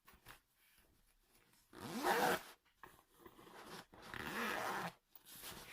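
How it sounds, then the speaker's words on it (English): A zipper runs along a handmade vinyl notion bag in two distinct pulls, each a close, fairly loud rasping burst of about a second, with quieter handling rustle between them. "And it zips up, look. There's the zip."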